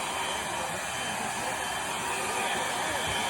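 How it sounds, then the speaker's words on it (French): A child's toy hair dryer blows with a steady, even whir and airy hiss, close and unbroken for a few seconds, with no talking. "un vrai sèche-cheveux et tout"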